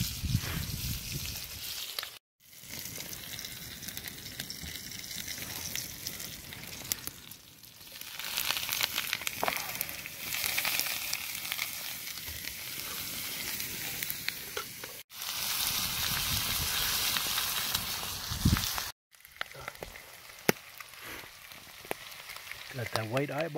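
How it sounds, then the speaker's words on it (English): Bacon sizzles and crackles in a pan over an outdoor camp setting beside fishing water, a continuous close hiss with popping, broken by a few brief gaps. "A little bit of bacon frying up."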